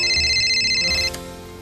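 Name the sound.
telephone ringing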